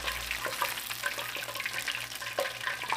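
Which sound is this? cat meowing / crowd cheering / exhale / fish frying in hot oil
fish frying in hot oil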